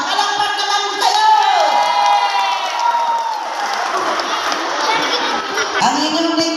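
A crowd at a local political rally cheers, whoops and claps continuously, loud and close, with children shouting and shrill voices rising above the sustained roar.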